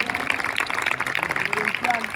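Audience applause at FanMedia Con Oviedo, a dense burst of clapping from a crowd with voices audible underneath.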